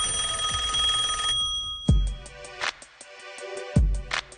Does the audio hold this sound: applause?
no